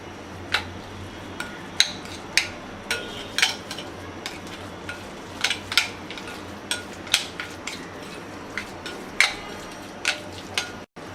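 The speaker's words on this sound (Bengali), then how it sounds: "এবার মশলাটাকে মিক্স করে নেব।" Spice paste for Bengali hilsa fish paturi being stirred with a spoon in a bowl, made with turmeric powder, salt and mustard oil: a steady run of sharp, close clicks and scrapes at an uneven rhythm, with no voices.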